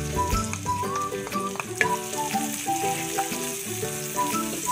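Onion fries in a pan with mushrooms for a Bicol Express dish, giving a loud, steady, close sizzle with some stirring, no talking.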